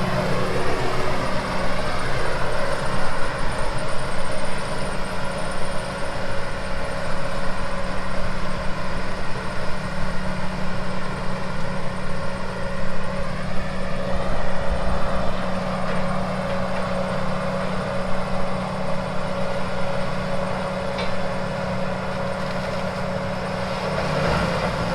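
A 1,000-horsepower grinder, controlled from an excavator, grinds old almond orchard trees into powder with a loud, steady, unbroken mechanical roar and dense grinding noise that holds for the whole stretch.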